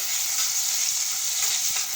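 Vegetables sizzle in white cooking oil in a pan while being prepared for chicken soup, a loud, steady frying hiss with faint stirring scrapes and no talking.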